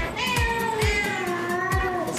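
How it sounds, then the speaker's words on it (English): A Singapura cat meows softly and sweetly three times at an even pace, each call short and rising, close to the microphone with no voices over it. "And they love to meow."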